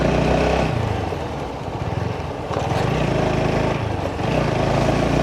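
A motorbike engine chugs close by on a rainy pre-dawn ride through Dhaka's back streets, running steadily with a rough, uneven putter and brief dips in power as if close to stalling.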